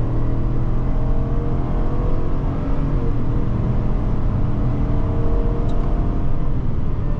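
A 2021 Chevrolet Suburban LT accelerating hard, heard from inside the cabin as a steady, loud engine drone and road rumble that holds evenly throughout without talk.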